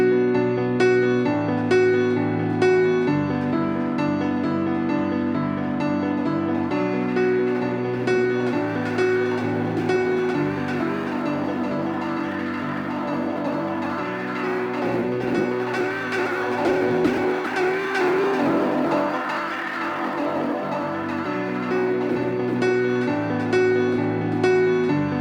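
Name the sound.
piano with SphereDelay ping pong pad-like delay effect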